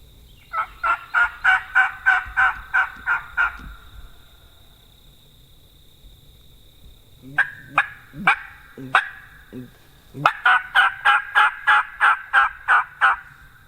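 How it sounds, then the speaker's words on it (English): A wild turkey gobbling on public land in spring, loud rapid gobble bursts repeated in three sequences, with softer clucking notes between and no talk. "There's a bird gobbling back this way, but these birds were just super fired up."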